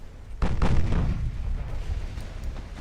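Warship main guns fire in Ultimate Admiral: Dreadnoughts, a 1922 Spanish heavy cruiser engagement, with a sudden deep boom followed by rumbling rolling blasts and a lingering low roar, loud and close.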